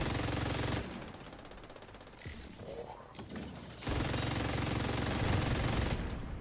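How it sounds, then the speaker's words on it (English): Automatic weapon fire in a shooter game, a loud sustained stream of rapid shots that breaks off for a few seconds of quieter clatter and reload sounds, then resumes as full continuous firing. "I'm just gonna fire just to get to the next mag"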